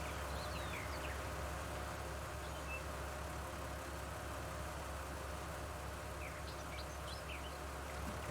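A tractor engine in the farming game Farming Simulator 19 idles in a low, steady drone, with faint chirps of birds or insects scattered above it.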